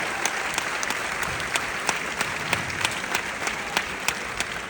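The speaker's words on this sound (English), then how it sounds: "A big round of applause for Lively and Isabela Ferrer." An audience claps steadily at a film gala in Copenhagen: dense, even applause with sharp individual claps standing out, sustained and fairly loud with no talking.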